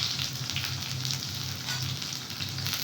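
Dried red chillies, five or six of them split open, fry in hot oil on a stove for a chicken pulao picnic dish, making a steady, close, dense sizzle with slight crackling pulses and no talking.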